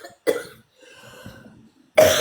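A person coughs harshly in a quiet room, two rough bursts about two seconds apart, close and loud, with a faint breathy sound between them.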